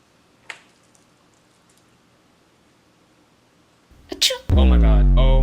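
A person sneezes in a classroom: a quiet room with a faint earlier sound, then a sharp, loud sneeze burst near the end followed at once by voices reacting.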